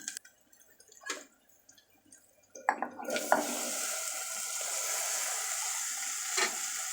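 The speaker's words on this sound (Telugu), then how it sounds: "ఇలా కదిలిస్తూ మనము ఫ్రై చేసుకోవాలి" Ivy gourd masala being stirred and fried in a pan: a few sparse clinks of a spoon, then a steady, fairly loud sizzle that continues to the end with occasional scraping.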